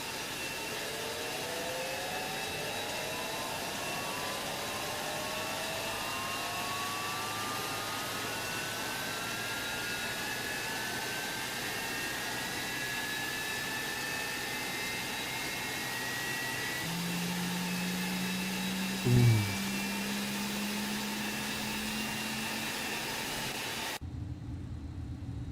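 An MD-11 jet engine spools up in X-Plane 12, a steady broad roar with a slowly rising whine that climbs over about twenty seconds, joined late by a lower tone and a brief thud before cutting off.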